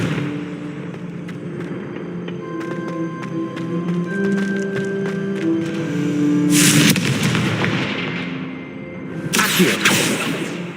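Confringo fire spell explosions in the video game Hogwarts Legacy: two loud bursting blasts over a humming game soundtrack, the second following a few seconds after the first.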